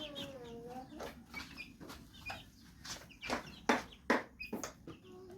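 Tiger chickens on a raised net floor cluck repeatedly at close range, uneven short calls with a few louder squawks, over a faint background.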